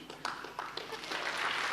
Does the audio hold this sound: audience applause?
yes